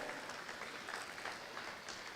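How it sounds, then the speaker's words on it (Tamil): An audience at an awards ceremony applauds a prize-winning team receiving a trophy, a steady wash of clapping that sounds somewhat distant and quiet, with no voices on top. "ஒரு உற்சாகமான கைத்தட்டல் கொடுங்க"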